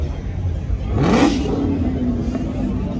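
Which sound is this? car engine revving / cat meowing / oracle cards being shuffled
car engine revving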